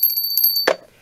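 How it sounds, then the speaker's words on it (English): A small decorative Sarna bell gives a bright, high metallic ringing with a rapid jingling flutter, ended abruptly by a soft thud, all close and alone. "We have a couple of others, which are Sarna bells"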